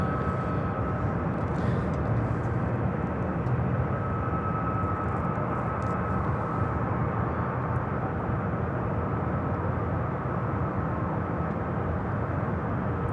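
A McDonnell Douglas MD-11 jet rolls at Louisville International Airport, producing a sustained heavy engine roar with a faint whining tone running through it, loud and steady from start to finish, no one talking.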